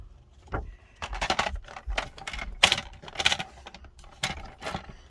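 Paper being trimmed for a 5.5-inch pocket: a run of sharp crisp clicks, snips and rustles in an irregular rhythm, close and fairly loud, with no talking.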